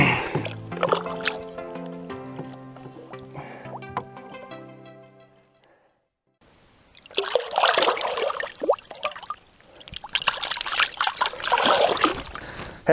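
A fish released from a fishing boat back into the water, with a burst of loud splashing and sloshing in the second half after an earlier stretch of tonal sound and a brief quiet gap.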